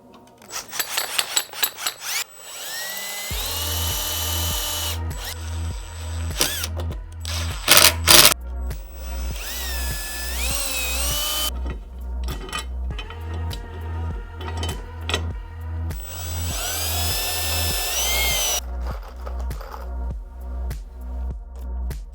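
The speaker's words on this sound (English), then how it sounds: "I'm gonna clamp this down, get those pilot holes in, get 2 screws in" A power drill bores pilot holes and drives two screws into wood for a car camping build, with several whining bursts that rise and fall in pitch and quiet handling noises between them.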